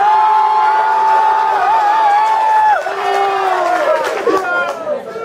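Cheers and whoops rise from a crowd at a graduation party awards event as another winner is honoured. The noise is loud and steady, thinning slightly toward the end, with overlapping shouts and chatter.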